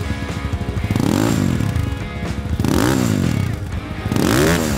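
Lemoto LRF 250 motorcycle with an aluminium double exhaust revving hard in repeated bursts, each throttle blip rising and falling in pitch, loud and close, with brief dips between three main revs.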